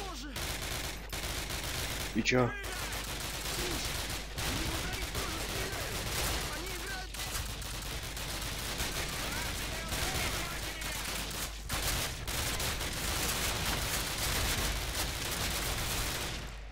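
Constant automatic gunfire and explosions from the shooter game Call of Duty fill the scene, with dense rapid volleys and occasional heavier bangs, while a player talks briefly over the din.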